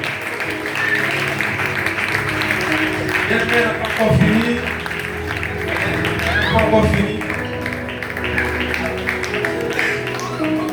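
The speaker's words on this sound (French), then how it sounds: "Là où tu es, tu vas te tenir debout et acclame le plus fort le Seigneur." A church congregation at a worship service stands acclaiming and applauding the Lord after a young woman's testimony of deliverance from witchcraft, a steady wash of clapping and crowd noise running throughout beneath someone talking.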